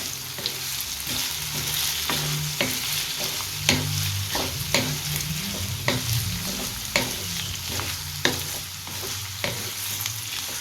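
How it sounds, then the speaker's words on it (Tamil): Beef fat sizzles as it sautés in a pan, with a steady frying hiss and regular scraping clinks of a utensil stirring it, close and continuous. "இந்த கொழுப்பு இதில் சேர்த்துருவோம் இது இதோடு சேர்த்து நல்லா வதக்கிடுவோம்"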